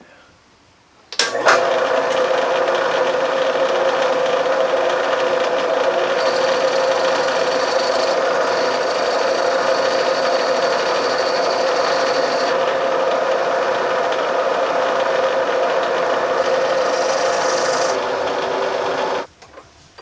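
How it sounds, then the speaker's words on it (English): A milling machine cuts metal parts for a boat outboard motor repower in a loud, steady, continuous machining whine with a high ringing tone. It runs unbroken for about eighteen seconds, then stops abruptly. "Luckily my dad has a mill, so he's gonna mill out the parts."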